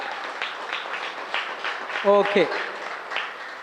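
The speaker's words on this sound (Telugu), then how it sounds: "ఒకసారి ఖమ్మం శైలజ మేడం గట్టిగా క్లాప్స్ కొడదాం" An audience at a party success meet breaks into applause, a dense sustained patter of clapping with a brief spoken word in between.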